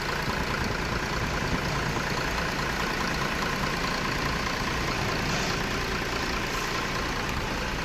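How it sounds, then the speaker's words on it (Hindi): A diesel engine idles steadily at close range after a nozzle washer was replaced to fix a diesel leak, a continuous low rumble with a constant mechanical clatter and no voices. "और इंजन का साउंड भी अच्छा है काफ़ी अब।"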